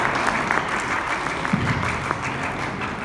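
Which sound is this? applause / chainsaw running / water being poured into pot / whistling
applause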